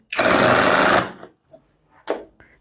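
A GearUP cordless brushless hand drill whirs loudly for about a second while driving a screw, then its clutch gives a few short ratcheting bursts once the screw tightens.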